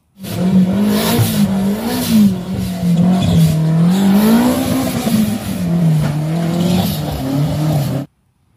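A blue toy off-road car runs with a loud, steady whining motor hum that wavers slightly in pitch for about eight seconds before cutting off abruptly, with no talking.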